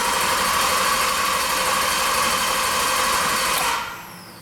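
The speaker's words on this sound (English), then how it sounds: "So just reaching in and cranking it." A Jeep Liberty engine cranks without catching, a steady, loud, even whir from the starter that runs on and then drops off abruptly near the end.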